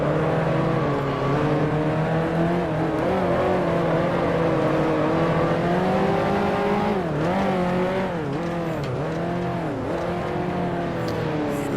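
A 1955 Maserati Formula One race car in the Grand Prix Legends game at Monaco gives a loud, continuous high-revving engine howl, its pitch dipping sharply several times near the end as it shifts gears and brakes.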